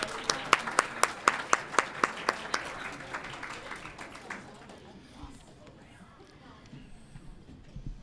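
A dinner audience at the 2018 Bethel College Athletic Hall of Fame induction ceremony applauds the serving staff with crisp, evenly paced claps for about four seconds, then the clapping fades into a quiet room murmur of voices.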